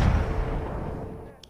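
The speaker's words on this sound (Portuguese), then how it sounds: "Levando o tiro pelas costas." Gunfire in the Battlefield 1 multiplayer game on Xbox Live, a dense burst of loud shots and booming blasts that gradually fades over a second and a half, with a voice faintly present.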